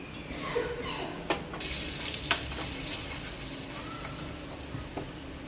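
Kashmiri red chili powder sizzles and fries in hot ghee, a steady close crackling hiss with a few sharp clinks of a spoon against the pan.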